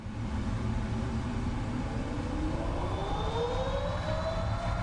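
Jet engines of a PMDG 777-300ER spooling up for takeoff in Microsoft Flight Simulator 2024, a loud steady roar with a whine that rises in pitch over several seconds, with no talk over it.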